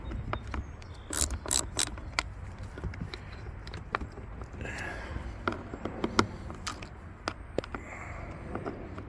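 Wrench work loosening bolts on the front pull-down motor of a 1990–93 Cadillac Allante, with a cluster of sharp metallic ratchet clicks early on, then scattered lighter clicks and rattles, close by against a low background hum.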